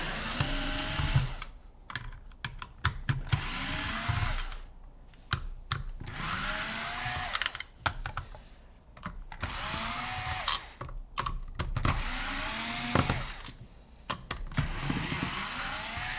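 A small power driver whirs in short repeated bursts with brief pauses between them, backing screws out of a Tippmann Gryphon paintball gun on a bench, close and alone without talk.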